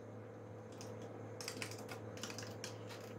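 Soft keystrokes tap on a computer keyboard while entering a Wi-Fi password, scattered quick clicks in short bursts over a faint steady hum, close but quiet, with no speech.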